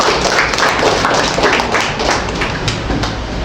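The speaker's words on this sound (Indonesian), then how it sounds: "Tepuk tangan buat kita semua." A class of students claps hands together in a dense, slightly uneven burst that continues at close range for a few seconds, with little talk over it.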